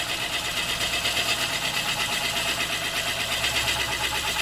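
A wood lathe spins a mallee burr for a cut, giving a dense, continuous whirring and rapid buzzing chatter at an even, fairly loud level with no talk.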